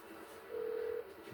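A single short phone tone, steady and clear, sounds while a call is dialed to order a taxi in Grand Theft Auto V, set against a faint quiet background.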